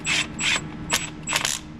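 A ratchet tightens a hose clamp on an Isuzu 2.3 engine, giving four quick bursts of close, sharp clicking pawl strokes with short pauses between them.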